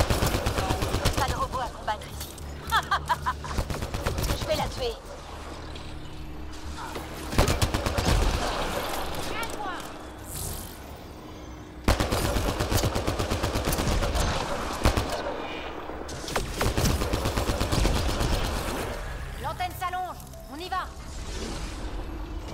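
Gunfire in the video game Mass Effect Andromeda, repeated bursts of rapid shots and sharp cracks in several clusters, with someone talking between the volleys.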